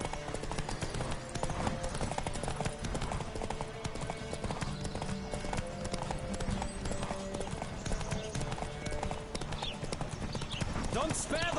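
Galloping horse hooves in The Witcher 3 video game, a rapid continuous clip-clop running throughout with game music and voices shouting over it.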